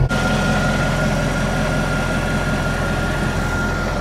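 A Mercedes S63 AMG limousine engine idles close and loud, a steady deep rumble and vibration with no breaks, heard alone without talk.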